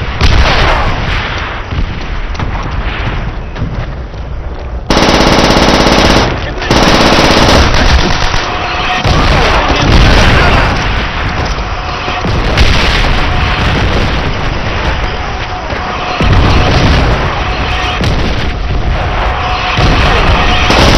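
Gunfire and artillery booms in a Call of Duty: World at War battle, a dense, loud barrage of rapid machine-gun bursts and heavy blasts running continuously throughout.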